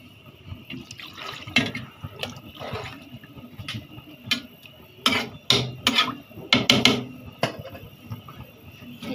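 Water is poured into a pot of radish and bean curry, with close, irregular splashing bursts and a few clinks of utensils against the pot.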